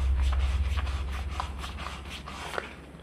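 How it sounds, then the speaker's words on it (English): A part of an Oshkosh plow truck is hand-sanded with fine 1200 grit sandpaper: repeated quick scratchy rubbing strokes, close and fairly steady, over a low background hum, with no talking. "I've got some 1200 grit sandpaper. You don't need this fine, it's just what I had."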